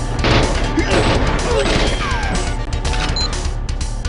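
Rapid game gunfire from GoldenEye on the Nintendo 64 crackles in a dense, continuous burst with sharp impacts and crashes, loud and busy, with a voice talking faintly underneath.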